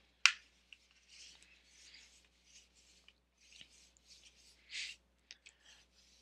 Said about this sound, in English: I'm just going to take my paper and I'm just going to fold it in half like I'm making a birthday card